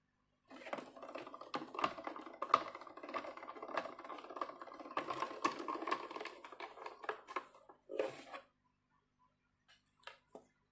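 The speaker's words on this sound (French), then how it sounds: "je vais passer ça dans ma machine de découpe" Card held to a stencil with washi tape is cranked through a die-cutting machine, giving a steady run of small clicks and rattles for about eight seconds, then a brief clatter and a few faint ticks.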